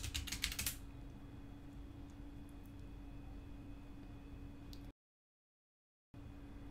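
Keys on a computer keyboard clatter in a quick burst at the start as a Linux install command is typed on a Raspberry Pi setup, followed by a quiet steady hum with a brief dropout.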